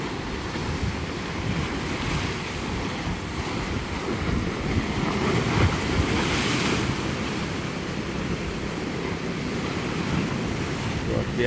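Ocean surf and wind at Waisai beach in Raja Ampat, heard on a morning walk: continuous broadband wash of waves close by, with gusty wind buffeting the microphone and a brief swell of breaking water in the middle.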